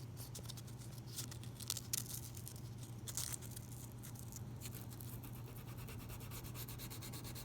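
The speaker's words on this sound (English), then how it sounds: "And I'm going to polish the sides, right where the Z file hit." Fine 220-grit sandpaper rubs quickly back and forth along the sides of guitar frets where a Z file scratched them, a soft close scratchy rasp with a steady low hum underneath.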